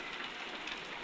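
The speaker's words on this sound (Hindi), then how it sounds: "ये देखो, ये देखो फुल बारिश, इसका सीन चल रहा है।" Heavy rain pours down in a steady, dense hiss, close and continuous, with no voices.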